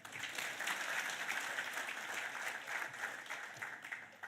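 An audience at a taxpayer appreciation awards ceremony in Swakopmund, Namibia gives a round of applause, steady crowd clapping heard from a distance, fairly faint, lasting the whole stretch.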